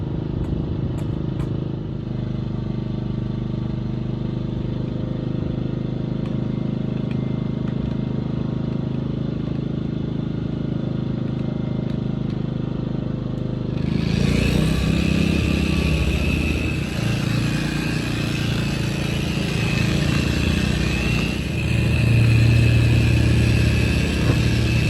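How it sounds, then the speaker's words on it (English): Steady loud drone of a generator mounted in the back of a truck, running continuously throughout, with its pitch and intensity shifting partway through as it keeps humming close by. "sorry if it's a little loud, the generator's like in the back of the truck"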